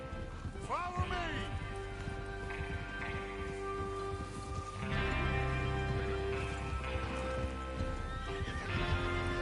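Horses in Red Dead Redemption 2, a whinny up front followed by steady clip-clop hoofbeats at a run, fairly close, with a voice talking over parts of it.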